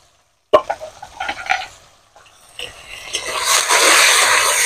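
Shrimp, rubbed with a little salt and turmeric, frying lightly in a pan: a sudden sizzle breaks in after a brief silence, with scraping stirs and a steady hiss that swells toward the end.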